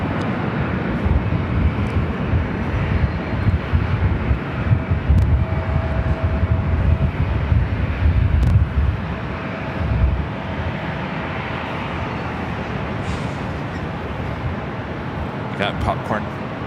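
A jet airliner takes off at LAX, its broad engine roar steady and rumbling for the full stretch, with wind buffeting the microphone and people talking over it.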